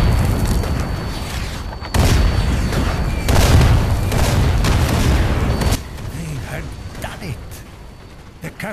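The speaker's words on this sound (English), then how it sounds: "Captured artillery destroyed the tank and bought us another chance." Captured artillery firing on and destroying a tank in the Sniper Elite VR war game: heavy booming blasts and bursts of gunfire roll through a loud, dense battle din, with voices mixed in.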